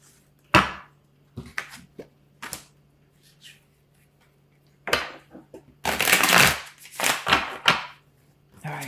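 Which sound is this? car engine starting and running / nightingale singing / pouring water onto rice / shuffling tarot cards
shuffling tarot cards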